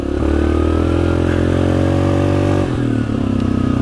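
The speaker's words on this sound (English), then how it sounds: "that 2R racing tip woke this thing up like crazy" A loud, close Yamaha Grizzly 700 XTR ATV engine with a 2R racing exhaust tip and fuel programmer revs hard and holds a raspy, high drone, dipping briefly before climbing again.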